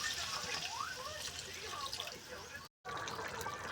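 A little water pours into a pot of already-boiled potatoes being fried with spices, a continuous trickling splash that breaks off briefly near the end, with a faint voice in the background.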